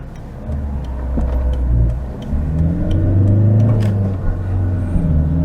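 Audi car pulling out of a junction onto the A483 and accelerating, engine rumbling and rising in pitch through the gears, heard from inside the car.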